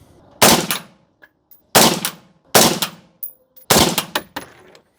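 Four separate loud shots from an AR-15 rifle with a 13.7-inch barrel firing 77-grain rounds at a 50-yard range, each sharp crack followed by a decaying echo, with smaller reports between them.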